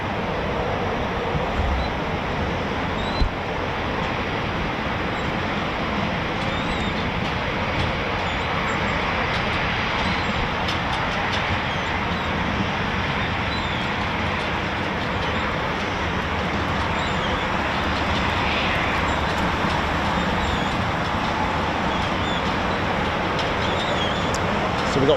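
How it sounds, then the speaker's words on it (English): An Embraer Phenom jet taxiing at RAF Coningsby gives off a steady, broad jet whine and rumble at moderate distance that holds constant throughout, with faint outdoor background noise. "Here we go, our first taxiing Phenom of the day."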